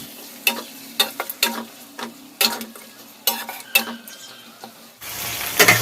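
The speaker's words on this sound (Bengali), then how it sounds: "এই পেঁয়াজগুলো দিয়ে আমি হালকা হালকা লাল লাল করে ভাজবো" Chopped onions fry lightly in a pan while a utensil stirs them, giving repeated sharp scraping taps against the pan over a low sizzle that grows louder and more continuous at the end.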